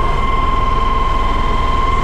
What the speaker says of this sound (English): We've got them all four tracks are turning at the same rate right now